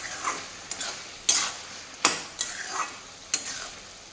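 Cabbage and fish head ghonto is stirred in a pan with a spatula, giving about seven sharp scraping clacks at an uneven pace over a faint sizzle, close and without voices.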